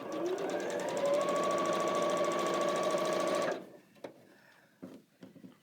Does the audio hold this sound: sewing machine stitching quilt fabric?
yes